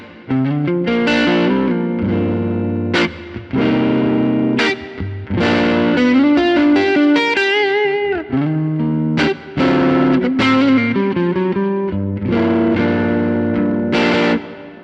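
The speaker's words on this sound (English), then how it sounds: "Let's add a bit of reverb to that. I'm using the concert hall." An electric guitar played through an Axe-Fx III amp modeller with concert hall reverb rings out in distorted chords and phrases, each note trailing into a long, spacious wash.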